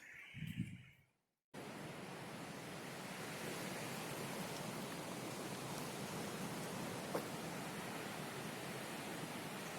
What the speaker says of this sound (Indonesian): bisa sahabat YouTube dengarkan deru ombak yang ada di